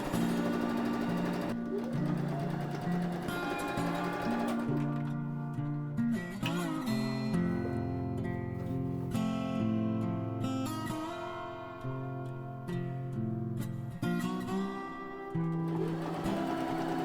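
A sewing machine stitches a linen dress with a steady mechanical run, mixed with background music that carries clear tones throughout.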